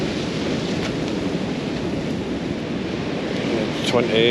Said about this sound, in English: the wind is definitely starting to get up to its promised 20